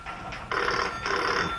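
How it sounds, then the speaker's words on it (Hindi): An old-style telephone bell rings in two loud, buzzy trilling bursts separated by a short gap, close and clear with no talk over it. "टेलीफोन उठाना।"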